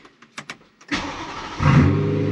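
A BMW M3 fires up after a few short clicks and then revs, its engine rising sharply and loudly into a strong sustained pull as it accelerates, with no talk.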